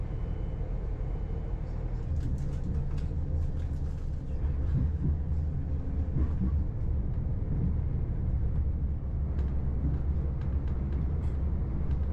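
On a single-track line near Gorey, a train rumbles steadily as a northbound passenger service passes. The sound is low and continuous, with faint clicks and clatter over it and no speech.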